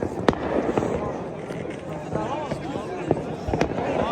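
Fireworks burst during a Newroz celebration in Akre, Kurdistan: sharp, scattered cracks and pops, some near and some distant, over a festive crowd and someone talking.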